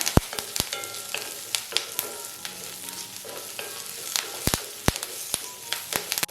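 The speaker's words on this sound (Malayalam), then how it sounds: "നമ്മുടെ സവാള എല്ലാം നന്നായിട്ടൊന്ന് വാടി കിട്ടുന്നത് പോലെ ഒന്ന് വഴറ്റിയെടുക്കാം" Onions with curry leaves sautéing in a pan for a spicy onion-tomato chutney, a steady sizzle broken by sharp clicks and scrapes of a spoon against the pan, close and alone.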